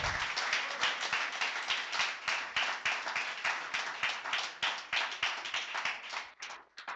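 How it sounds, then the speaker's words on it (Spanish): A church congregation claps in a strong, rhythmic beat during a sermon, sharp individual claps in a steady pulse, fairly close and alone, with a few scattered claps at the close. "Dale un fuerte aplauso al Rey de Gloria"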